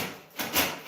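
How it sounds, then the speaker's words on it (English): A power drill gives a couple of quick, brief bursts into a mudded wall surface, short rasping whirs separated by a pause, close and alone. "So we got a drill, quick little tippy tap."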